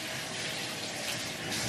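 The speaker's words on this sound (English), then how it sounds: "I gotta wash my hands because stuff was just so greasy and dirty" Water runs steadily from a tap as greasy, dirty hands are washed at a sink, a soft continuous hiss and splash heard close by.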